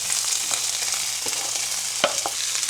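Corn kernels frying in oil in a pan for Louisiana-style cooking, a steady close sizzle with a few sharper pops and stirring clicks, no talking.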